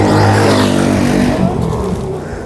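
A vehicle passes on a hot tarmac road in 45-degree heat in Churu district, Rajasthan, a loud car-like engine roar that swells and then fades away.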